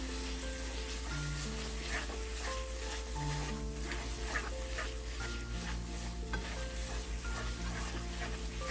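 Peach burfi mixture stirred in a pan while it cooks, with continuous soft scraping and bubbling sizzle under a steady low hum.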